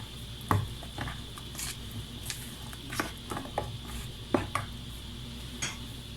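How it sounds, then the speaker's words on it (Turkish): Batter for leek mücver with grated carrots being stirred in a bowl, soft scraping and clinking of a utensil against the dish in scattered strokes, close and fairly quiet. "Hemen karıştırıyorum."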